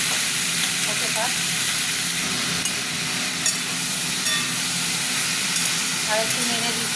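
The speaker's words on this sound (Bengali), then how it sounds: "এই যে এখানে বড়িগুলো ভাজা হচ্ছে।" Bori, lentil dumplings, fry in a pan with a constant close sizzle and hiss, broken by a few small pops and light scrapes.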